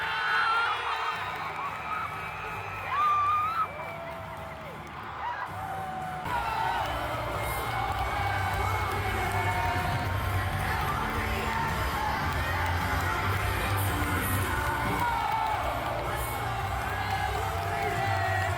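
An AEW wrestling crowd cheers during a wrestler's entrance, a continuous loud roar of shouting and whooping voices that swells and holds for the whole stretch.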